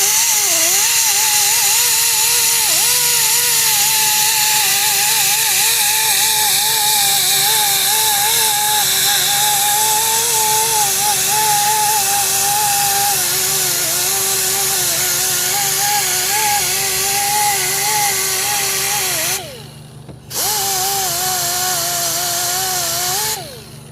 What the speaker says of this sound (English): I'm gonna start grinding on this.